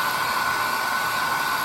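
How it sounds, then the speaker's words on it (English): A new hair dryer blows steadily, a loud continuous whooshing roar with a constant motor whine, close and unbroken, used to dry watercolor paint washes. "I got a new hair dryer."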